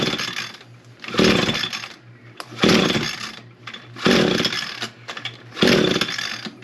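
An Echo PAS-225 weed eater with a failed coil is pull-started with the choke on: four loud, rasping rope pulls come in a steady rhythm, each a brief whirring burst, and the engine never catches.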